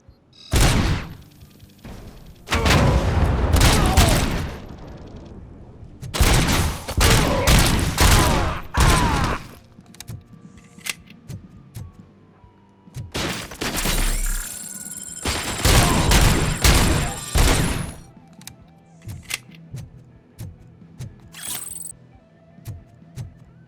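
Bursts of gunfire from a firefight in RoboCop: Rogue City, loud rapid volleys and booming shots clustered in several dense stretches, with quieter gaps of scattered shots and game ambience between them.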